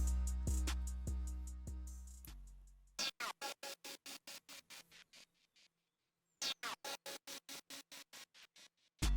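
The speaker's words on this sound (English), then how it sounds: "The next sound up is a lead from Serum playing this." A Serum synth lead in FL Studio opens with a few plucked, decaying notes, then switches into a rapid, rhythmic gated stutter of short bright bursts, pausing briefly before the chopped pattern resumes.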